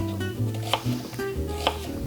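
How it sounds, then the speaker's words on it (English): A knife slices onion into slivers for caramelizing, giving soft repeated cuts and taps on a board, close and fairly quiet, with no talking. "We're cutting them into slivers, because the intent here is to caramelize them in a pan."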